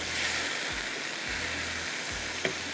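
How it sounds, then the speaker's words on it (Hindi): Chicken with soy sauce and capsicum sizzles and fries steadily in a pan, a continuous close hiss with a few low scraping stirs and a small clink near the end, no voices. "चिकन हमारा यहाँ पर फ्राई हो रहा है"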